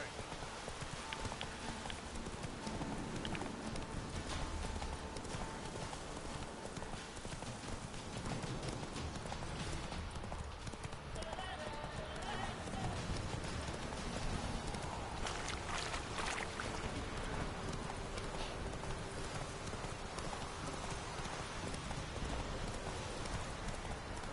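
Roach the horse galloping in The Witcher 3, a steady rhythmic clip-clop of hooves running continuously over dense game ambience for the whole stretch, with no voice over it.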